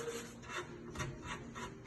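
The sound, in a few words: sanding block rubbed over cut edges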